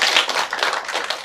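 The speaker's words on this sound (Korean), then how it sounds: "우리 한번 박수합시다" Audience clapping at a seminary end-of-term lecture and chapel service, a dense patter of hands filling the short stretch at steady loudness with no one talking over it.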